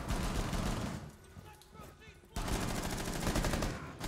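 Rapid automatic gunfire in the tactical shooter Rainbow Six Siege, loud and close, in dense bursts that pause briefly mid-clip before resuming hard, with players talking over the shots.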